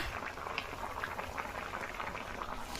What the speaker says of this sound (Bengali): আর দেখো এদিকে আমার ডিম সিদ্ধ হচ্ছে